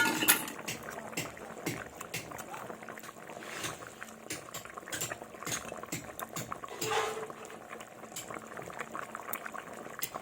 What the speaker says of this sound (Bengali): তো এই দেখুন বন্ধুরা, ঝোলটা ফুটে গেছে।